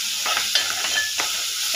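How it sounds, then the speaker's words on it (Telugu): Turmeric is stirred into curry frying in a pan: a steady close sizzle with soft scraping strokes of the spoon repeating every few moments. "మనం దీన్ని కొంచెం పచ్చివాసన పోయేంత వరకు కలుపుకోవాలి."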